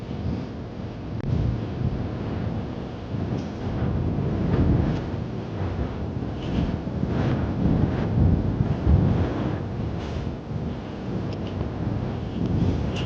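A headwind buffets the microphone on a solar bike tour near Panevėžys, Lithuania, making a steady low roaring rumble with gusty swells throughout and no talk.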